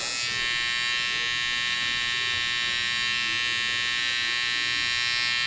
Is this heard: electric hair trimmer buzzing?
yes